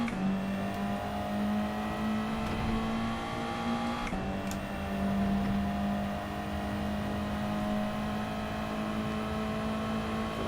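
Ferrari Group 4 race cars in the Gran Turismo 7 video game battle on the Grand Valley Highway reverse track, with a steady, close engine drone carrying a strong whining pitch that dips briefly and then climbs again.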